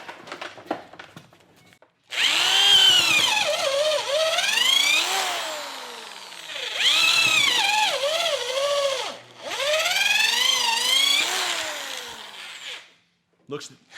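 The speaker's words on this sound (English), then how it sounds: "Let's move on to actual drilling duties. A 5/16 inch drill bit." A cheap Hyper Tough corded drill spins a 5/16 inch bit through a 3-inch section of wood, its motor whining loudly in three long bursts that dip and rise in pitch under load, with brief pauses between.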